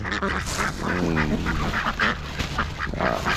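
Several wild ducks in New Zealand quacking close by, with overlapping rough calls and a short nasal rattling run over a busy outdoor background.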